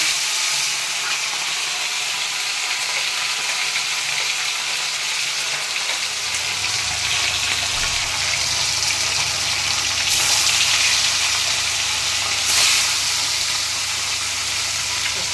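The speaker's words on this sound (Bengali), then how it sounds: "এবার আমি মাছ ছেড়ে দেবো। আমি সরষের তেল দিয়ে করছি।" Parshe and bata fish fry in mustard oil in a kadai, giving a loud, steady, unbroken hiss of sizzling oil, joined partway through by a low continuous hum underneath.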